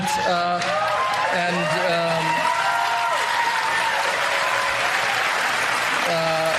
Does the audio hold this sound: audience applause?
yes